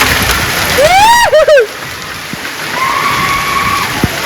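A heavy hailstorm with rain pours down in Guledgudd, making a dense, continuous hiss of falling water. A brief, sweeping chirp-like call cuts through it near the start.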